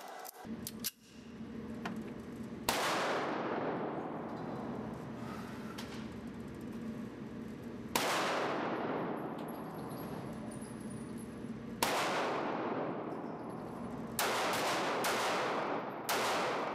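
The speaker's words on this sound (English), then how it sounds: "I'm just going to fire 3 shots, take a second, and then 3 more shots" A S&W Bodyguard .380 pistol fires a series of sharp, loud shots with ringing decays: a few widely spaced reports, then a quicker cluster near the end.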